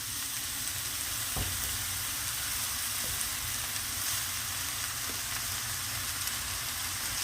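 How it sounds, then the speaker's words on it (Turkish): Chopped leeks sizzle steadily in hot oil, a constant crackling hiss with occasional soft stirring taps and no voices. "Yağda bir güzel pırasamızı kavuracağız."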